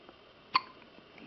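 A single sharp hiccup from a young boy, one brief loud burst standing alone against a quiet room background.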